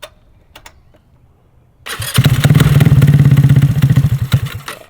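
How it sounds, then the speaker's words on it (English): A cold GY6-engined Honda Ruckus scooter, choke off, gets a few quiet clicks before it catches and settles into a loud, pulsing idle close by that sputters slightly near the end. "cold start without the choke on"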